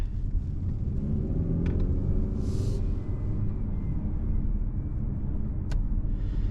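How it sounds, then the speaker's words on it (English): Steady low engine rumble and road noise from inside a moving 2025 Mazda CX-30, continuous and even throughout, with no talking. "the engine noise, honestly, is just not that much"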